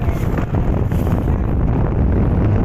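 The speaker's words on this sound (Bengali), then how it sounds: "আজকে হাওরে ভালো বাতাস, প্রচুর ঢেউ" Strong wind buffets the microphone with a constant low roar over an open haor wetland in Bangladesh, with faint lapping of choppy waves beneath.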